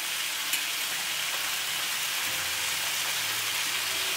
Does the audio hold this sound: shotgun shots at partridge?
no